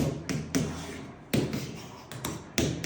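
Sharp knocks on an interactive display screen, about five close, loud raps in an irregular pattern with short gaps between them.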